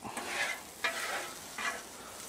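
Leftover unsalted butter melts and sizzles on a Blackstone griddle beside pork chops, a soft steady frying hiss broken by a few scraping stirs, close and moderate in level.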